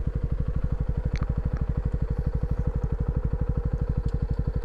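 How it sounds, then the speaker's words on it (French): Honda CB125R motorcycle, a 2020 model, idling steadily after an electric start, its single-cylinder engine thumping in a fast, even rhythm close by, with faint clinks above. "coupe contact, démarrage et un démarreur électrique bien sûr"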